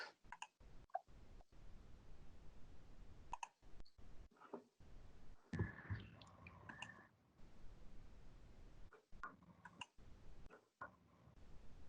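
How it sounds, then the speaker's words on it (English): Faint, irregular mouse and keyboard clicks picked up over an open microphone during an online webinar, scattered sharp ticks in bursts and pauses at low level, without talk. "We can all hear you clicking away, Dan."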